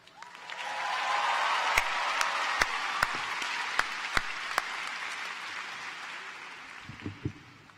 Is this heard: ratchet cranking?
no